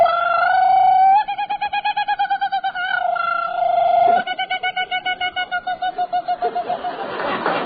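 A person imitates a kookaburra's call, a loud, close series of rhythmic, hooting, cackling bursts that rise into a rapid chattering run and end in a rough, breathy flourish.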